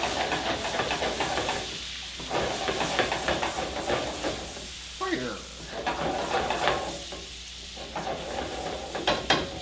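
Fresh garlic and onions brown in a hot pan, giving a steady close sizzle and hiss with occasional stirring scrapes and brief pops, continuous for several seconds.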